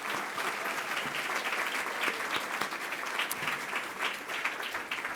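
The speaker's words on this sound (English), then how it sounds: "Another round of applause, please, for all of us." An audience claps steadily throughout, a dense even applause from a room full of people, moderately loud with no voices rising above it.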